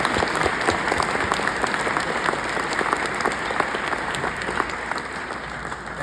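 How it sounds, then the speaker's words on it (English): Luncheon crowd at a business college keynote event gives a keynote speaker a long, even round of applause, many hands clapping at a moderate distance throughout. "a big round of applause"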